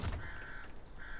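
A single crow caws in the SnowRunner game world, a fairly faint call standing alone over a quiet ambient background.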